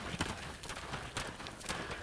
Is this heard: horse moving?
yes